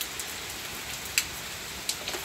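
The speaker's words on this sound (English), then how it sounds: "It has started raining heavily in Bangalore." Heavy rain falling in Bangalore, a steady broadband hiss of downpour with a few sharper drip or splash hits standing out, no voices.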